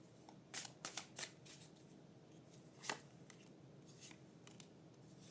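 Tarot cards being shuffled and drawn, with crisp riffling snaps in short clusters and a few isolated flicks, close but soft against a quiet room with no talking.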